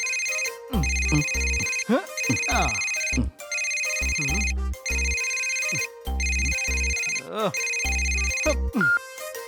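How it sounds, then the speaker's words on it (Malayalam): A telephone rings with a repeated electronic ringtone in several bursts with short gaps, loud and close, alone with no talk over it. "ആരാ ഈ ഫോൺ വിളിക്കുന്നേ?"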